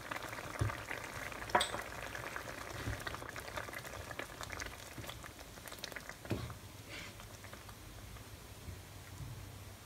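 Prawn masala simmering in a pan, a soft continuous bubbling and sizzle with a few clinks of stirring, quiet and close, no voices.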